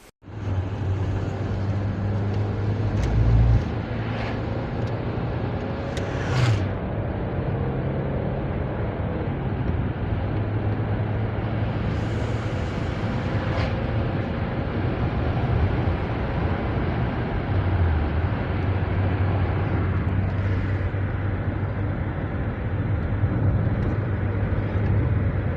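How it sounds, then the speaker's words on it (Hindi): A car drives along a road lined with date palms, its engine and road rumble a steady close drone throughout, with occasional bumps and brief rattles. "इसके बाद गाड़ी आती है, हम लोग उस गाड़ी में बैठते हैं।"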